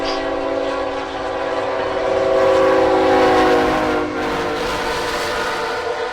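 A northbound high-priority freight train led by GE Tier 4 GEVO locomotives at Folkston sounds its horn in one long, loud, continuous blast that swells in the middle, with rumbling rail noise underneath.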